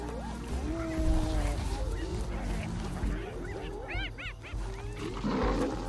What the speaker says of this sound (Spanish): Un grupo de leones está rodeado y en aprietos.